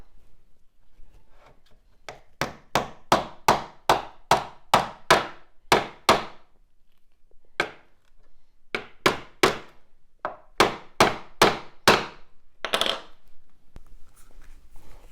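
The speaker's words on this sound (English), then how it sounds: "that did tap in quite easily with a hammer" A hammer taps a stiff pin into a part of an AVA Go P55 pressure washer during assembly: a quick run of about a dozen sharp, close strikes, a pause with a lone tap, then another brisk burst of blows.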